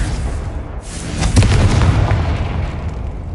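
A fire spell explosion from Confringo in Hogwarts Legacy, a deep boom that swells after a second and rumbles on loudly.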